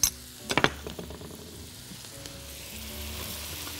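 Onion frying in oil and butter with meat in a pan crackles and sizzles up close, opening with a few sharp clatters of stirring before settling into a steady, moderate hiss.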